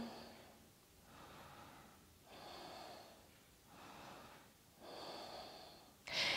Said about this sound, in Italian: Due respiri guardando oltre la spalla destra.